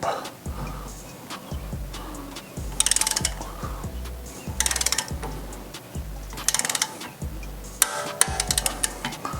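Wheel studs on a BMW G80 M3 are tightened with a ratchet, giving repeated close clicking bursts and metallic ticks in an irregular rhythm, with occasional quiet talk in the workshop.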